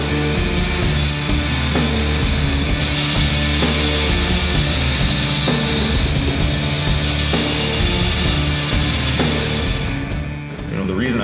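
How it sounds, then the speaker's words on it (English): A bench grinder works a steel knife blade: a loud, continuous, close-up grinding roar with a steady motor hum that barely changes, easing off only at the very end. "And I'll do all the work actually on my grinder."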